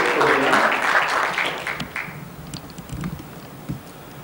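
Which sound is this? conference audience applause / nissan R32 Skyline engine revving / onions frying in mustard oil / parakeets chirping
conference audience applause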